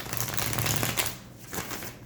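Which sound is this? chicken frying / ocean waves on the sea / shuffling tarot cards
shuffling tarot cards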